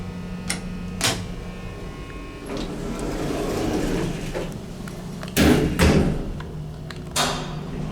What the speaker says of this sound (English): I love the sound of that door operator.